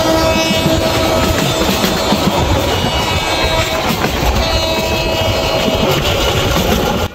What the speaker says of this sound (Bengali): আমাদের উপকূল এক্সপ্রেস গঙ্গাসাগর রেলওয়ে স্টেশনের দিকে দুরন্ত গতিতে ছুটে চলেছে